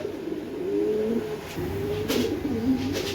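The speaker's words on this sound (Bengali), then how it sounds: "দেখেন এখানে এক পেয়ার কবুতর আছে গিরিজেলের ভিতরে।" A pair of pigeons, one white male and one tiger-patterned female, coo inside a wire cage, their low rolling calls repeating steadily and close by over a faint background hiss.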